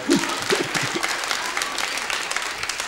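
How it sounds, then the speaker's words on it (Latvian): An audience claps warmly in a radio studio during a live song concert, a burst of applause that starts loud and gradually tapers off over a few seconds, with a few faint voices mixed in. "aplaus viņam par to"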